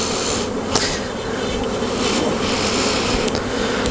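Bees buzz in a dense, steady drone close by, with individual insects zipping past now and then over the constant hum.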